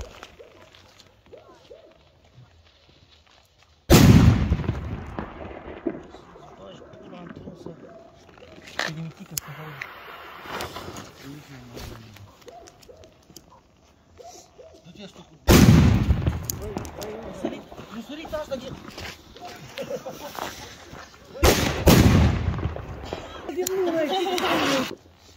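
Polenböller firecrackers go off on New Year's Eve: several sharp, loud blasts spaced apart, each followed by a ringing decay, with people talking between the bangs.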